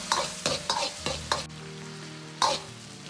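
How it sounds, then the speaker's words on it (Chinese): Cooking wine splashed around the edge of a hot wok over medium-low heat, where bean paste, sweet flour sauce and oyster sauce are being stir-fried: several sharp sizzling bursts with scraping strokes, settling into a steady low hiss. "再从锅边烹入料酒稍微多一点"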